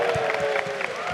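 Live audience at a Super Smash Bros. Ultimate invitational in London cheering and applauding the winner, a dense crowd roar with whoops and claps heard alongside a voice.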